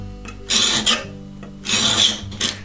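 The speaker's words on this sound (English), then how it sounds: "I want to start filing that edge back until I have just a hair sticking between them" A file rasps back and forth along the edge of a scratch stock cut from an old hand saw blade, two or three close, gritty strokes with short pauses between them.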